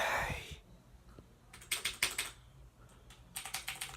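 Someone types on a Razer mechanical keyboard in quick, clacky bursts of keystrokes separated by short pauses. The sound is close and fairly quiet.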